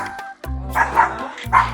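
A dog barks in short, loud, close bursts, with two or three quick yips and woofs in rapid succession.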